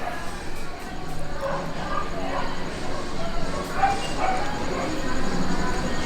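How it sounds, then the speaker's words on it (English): Dogs bark on and off in the distance, faint and scattered beneath a steady outdoor background with some murmuring voices. "Other than the dogs barking."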